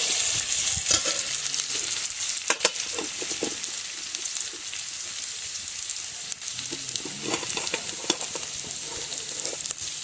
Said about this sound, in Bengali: পেঁয়াজ রসুনটা লাল লাল করে ভেজে নেই।